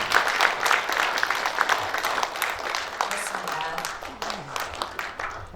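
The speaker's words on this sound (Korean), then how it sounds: "네, 역시 박수 부탁드리겠습니다." Applause for guests standing at a Korean journalists' day ceremony, a crowd clapping briskly and evenly, gradually fading as it goes on.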